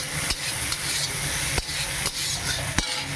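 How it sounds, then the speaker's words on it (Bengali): Food with salt and turmeric sizzling in a pan for a sour Bengali dish while a spatula stirs it, making a steady sizzle punctuated by a few sharp scraping knocks. No one speaks. "একটু নাড়তে থাকবো।"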